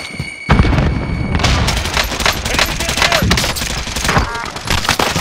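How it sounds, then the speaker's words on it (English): A frag grenade blast and rapid automatic gunfire in Call of Duty: Modern Warfare, loud and dense, with sharp bursts and booms layered over one another for several seconds. "Throwing frag grenade."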